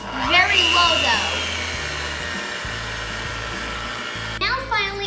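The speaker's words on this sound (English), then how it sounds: "you will use your hand mixer or your mixing source to mix it all together" A hand mixer whirs steadily on low speed through thin cake batter, a continuous close motor drone with a brief voice over it near the start and end.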